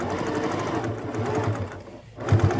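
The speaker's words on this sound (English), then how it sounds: "this is where you might want to go slow because you might not have a super strong sewing machine" A sewing machine stitches along the binding of a placemat being made into a casserole carrier, running in a steady, continuous whir that stays close and fairly loud throughout, with no talking.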